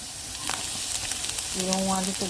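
Garlic fries in a hot pan with a lively, close sizzle throughout, and a tonal hum or voice-like tone rises over the crackle in the final second.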